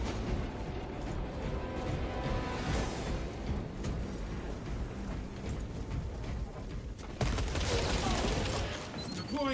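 Gunfire in the video game Space Marine 2: continuous heavy weapon fire, loud and close, with a sharp louder burst near the end.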